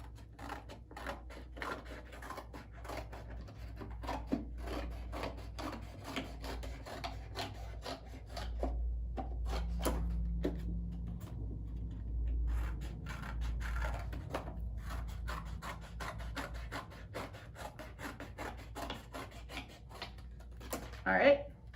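Paper cut into a shield shape for a craft, giving a steady run of close, crisp snips and rasping cuts over a low background hum, with a sharper burst near the end.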